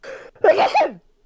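A single sharp sneeze close by, with a brief breathy intake before the explosive burst, over in about a second.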